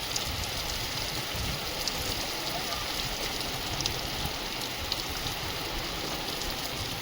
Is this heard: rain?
yes